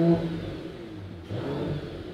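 The 3.0-litre engine of a 2018 Mercedes-AMG E53 4Matic revs with a steady, moderately loud mid-range drone that dips briefly and then swells again, heard alone without talk.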